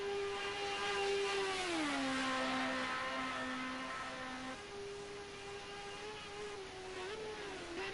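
A Group A touring car engine at the Nordschleife in a racing video game, a buzzy whine with a clear pitch that drops as the throttle lifts, holds, then steps back up and climbs again.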